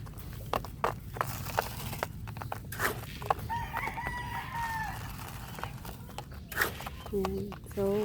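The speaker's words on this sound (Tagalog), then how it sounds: "magpakain na tayo sa mga sisiw natin" Pet chicks and chickens cluck and call while being fed their ration, with short clucks and a brief higher crowing-like call over shuffling and footsteps, and a person talks throughout.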